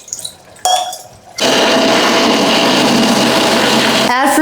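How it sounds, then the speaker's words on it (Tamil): After a few clinks and clatters, a kitchen mixer grinder starts up grinding ingredients with water, running with a loud, steady whirring roar close by. "இதை நம்ம மிக்சியில் போட்டு அரைச்சி எடுத்துக்கலாம்."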